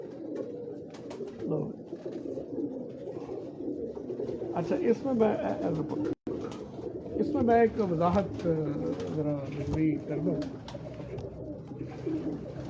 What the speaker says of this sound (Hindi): ये सब मतलब प्योर ब्रीड के कबूतर हैं।